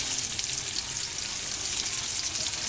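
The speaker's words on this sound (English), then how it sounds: "now we're going to flip the fish" A cod fillet sears in a hot pan for a lemon garlic dish, giving off a continuous bright sizzle and crackle, close and moderately loud, with no talk over it.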